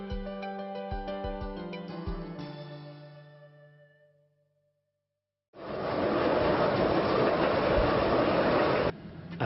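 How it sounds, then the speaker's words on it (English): A train on Afghanistan's first commercial railway moves slowly along newly laid tracks. A tonal, ringing passage fades to silence, then a loud, steady broadband rumble takes over and holds to the end. "The train drives slowly along these freshly laid tracks."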